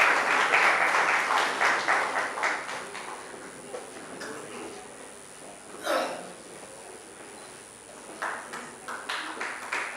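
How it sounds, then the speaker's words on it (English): A crowd claps steadily, loud at first and then thinning, with a brief swell of clapping near the end. "Let's give them a huge round of applause."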